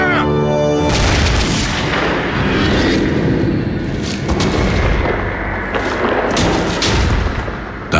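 A rifle volley fired by a line of soldiers makes a loud, booming blast that rolls on as sustained, reverberant rumble and crackle for several seconds.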